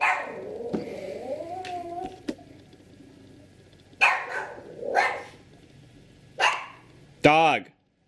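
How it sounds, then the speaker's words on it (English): A dog gives several sharp barks and yips in separate bursts, close and loud, with a whimpering whine between them, while a person talks over parts of it. "Dog."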